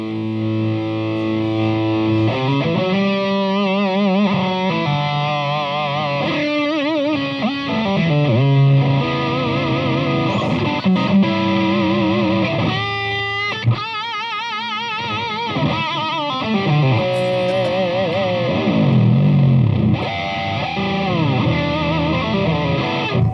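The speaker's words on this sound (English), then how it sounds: "In front of you, you actually have a Reeves Gabrels distortion generator." A Reverend electric guitar played through a Reeves Gabrels distortion generator pedal, heavily distorted sustained notes and slides ringing alone, loud and close, with a sharp attack midway.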